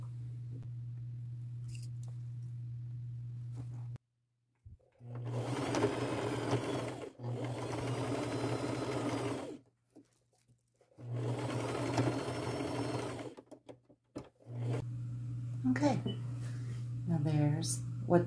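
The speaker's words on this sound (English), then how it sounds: "I will sew it with a zigzag stitch" A sewing machine runs a zigzag stitch along the edge of lace in three steady bursts of several seconds each, with short pauses between them, against a low constant hum and some talk.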